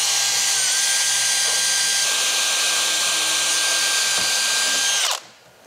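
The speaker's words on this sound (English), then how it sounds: "drill a pilot hole through" A power drill with a 1/8 bit bores a pilot hole through wood and into the steel of a vehicle door, whining loudly and steadily for about five seconds before cutting off abruptly.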